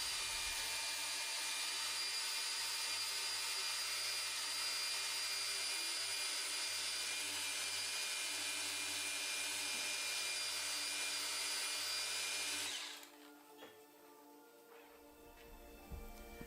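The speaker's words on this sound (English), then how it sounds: "we polish as tightly up against them as we can" A car paint polisher buffs the paintwork of a classic BMW E30, a loud continuous high whir that runs steadily for about thirteen seconds before cutting off, leaving faint clicks and handling noises.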